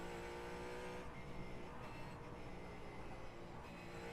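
Ford GT4 race car engine droning steadily on the Nordschleife in a racing video game, a continuous quiet hum with slight fluctuations and no clear revs or shifts, with no talking.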